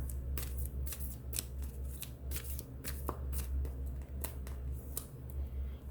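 Tarot cards being drawn and handled from a deck make a rapid, close series of crisp slaps and shuffling riffles, with a steady low hum underneath.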